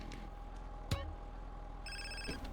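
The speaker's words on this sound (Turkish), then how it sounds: "şurada bir duralım bakalım telefon çalacak mı?" A mobile phone rings in GTA San Andreas: a short electronic ring tone with a bright, tonal buzz, preceded by a single sharp click, heard fairly quietly over a low steady background hum.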